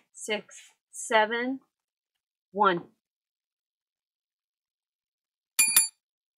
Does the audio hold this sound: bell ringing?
yes